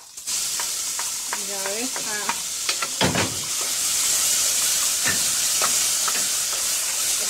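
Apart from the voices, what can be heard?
onion frying in oil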